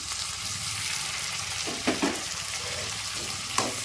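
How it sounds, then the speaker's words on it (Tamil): Tomatoes dropped onto sautéed onions in a pan for a broad bean (mochai) curry, giving a steady frying hiss with a few brief bursts of sizzle and stirring near the end, no talk. "அப்போ நம்ம தக்காளியை போட்டுக்கலாம்"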